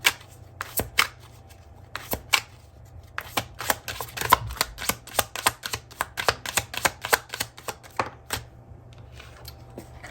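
Tarot deck shuffled by hand, a steady run of crisp card riffles and taps in quick irregular rhythm, close and clear with no talk.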